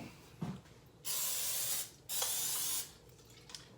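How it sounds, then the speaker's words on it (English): Two sustained bursts of aerosol cooking spray, each hissing for about a second, close by, with a few small clicks around them. "And now I'm gonna spray the tops."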